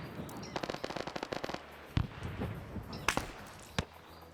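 Gunshots in the video game Arma 3 SOG Prairie Fire, a rapid rhythmic string of automatic fire followed by several separate sharp cracks, fairly close amid battlefield ambience.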